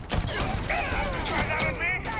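Gunfire in Starfield, several sharp shots in quick succession mixed with game effects, with a person talking over the shooting.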